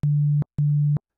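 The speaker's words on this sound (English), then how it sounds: "This is called a triangle wave." Two identical short bursts of a triangle wave from the Logic ES2 software synthesizer, each a steady low pure-sounding tone lasting under half a second, with a brief silent gap between them.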